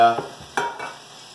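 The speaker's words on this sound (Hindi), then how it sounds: "इसको हम पहले ज़रा सा भून लेते हैं ताकि जो सफ़ेदी है गोश्त की वो थोड़ी सी कम हो जाए" Chicken meat for haleem is stirred and fried in a pan, with soft scraping strokes and a brief sizzling burst close by.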